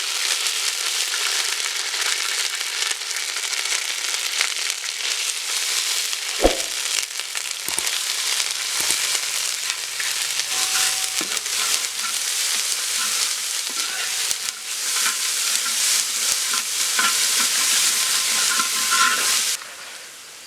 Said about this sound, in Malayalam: കടുക് പൊട്ടിച്ച് വെളുത്തുള്ളി ഇഞ്ചി പേസ്റ്റ് ഇടുക.